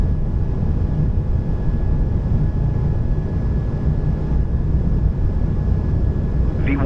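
Airbus A220 engines spooled up to takeoff thrust on the runway, a loud, steady roar with a faint high whine, heard from inside the aircraft.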